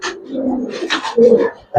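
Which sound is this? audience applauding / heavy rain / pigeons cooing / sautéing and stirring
pigeons cooing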